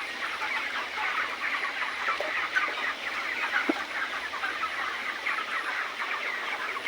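Chickens clucking steadily in a flock housed over a fish pond, a dense continuous chorus of fowl calls with an occasional louder cluck standing out, moderately near and without talk.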